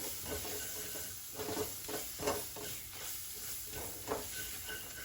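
Maize flour stir-fried in a pan with spinach and peas, a soft continuous sizzle with repeated scraping stirs at an irregular rhythm, close and fairly quiet, with no talk.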